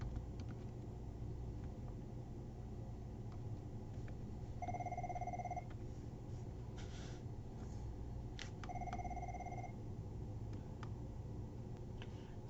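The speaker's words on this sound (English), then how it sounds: "we were interrupted with the telephone ringing." A telephone rings twice in a quiet room, two clear electronic trill bursts a few seconds apart over low background rumble, with no talking.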